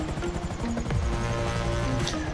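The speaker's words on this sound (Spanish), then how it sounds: "Tenéis que hacer es aterrizar el helicóptero justo en esta azotea." A helicopter touching down on a rooftop in GTA V, a steady low rotor drone with engine whine and tonal hum running throughout, moderately loud and close, with no talking.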